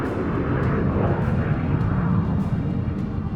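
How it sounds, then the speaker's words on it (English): A reconnaissance aircraft flies over shipping lanes near the Strait of Hormuz, its engine a steady, broad roar that holds moderately loud throughout with no voices. "Reconnaissance aircraft fly above the shipping lanes."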